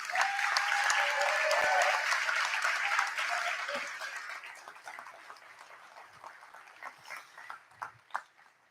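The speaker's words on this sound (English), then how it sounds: "How about one more round of applause while they're all sitting here?" Applause from the audience at a Class of 2024 graduation ceremony, a steady, dense round of clapping that fades over several seconds into scattered claps.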